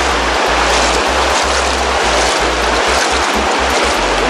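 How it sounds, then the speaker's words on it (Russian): A rushing river in Costa Rica with large stones on its bed, deep enough to reach knee height when crossed, roars in a steady, loud broadband wash throughout, with low rumbling gusts over the top. "Вот она какая река."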